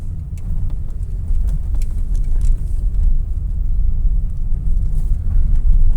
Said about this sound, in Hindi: आगे से मोड़ लाते हैं गाड़ी